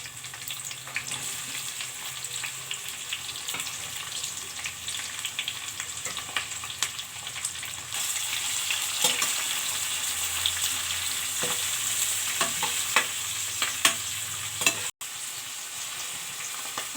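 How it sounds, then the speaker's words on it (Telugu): Onions fry with spices and a bay leaf for bagara rice, giving a continuous crackling sizzle with intermittent stirring scrapes, close and fairly loud throughout, growing a bit busier midway, with no talking. "ఆనియన్స్ బ్రౌన్ కలర్ వచ్చే వరకు ఫ్రై చేసుకోవాలి"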